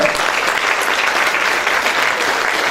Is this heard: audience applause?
yes